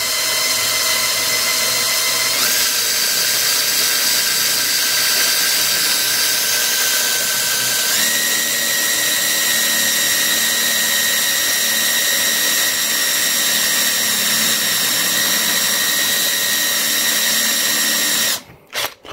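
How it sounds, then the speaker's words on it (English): A power drill bores steadily into the steel frame of a Suzuki DR200 motorcycle, a loud, sustained whine that steps up in pitch twice and cuts off abruptly at the end, with no voices. "I feel like I'm drilling a safe."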